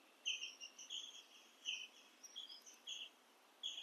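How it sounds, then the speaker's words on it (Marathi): Small birds chirp in quick, high bursts again and again, faint and distant in an otherwise quiet setting at Karneshwar temple in Kasba village, Sangameshwar. "पक्ष्यांची किलबिलाट"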